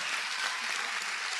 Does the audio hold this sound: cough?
no